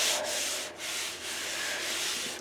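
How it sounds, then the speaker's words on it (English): A hand rubs and smooths fabric across a mini album cover in steady soft strokes, a close, continuous brushing swish with brief dips between passes, no voices. "If there's any wrinkles, we're just smoothing those out."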